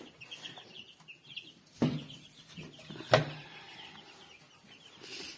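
Master Grey chicks cheep and peep softly in a warm brooder, with a couple of louder knocks and scuffles among the small calls and no talking.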